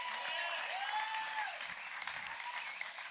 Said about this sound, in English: Let's all clap for Apple.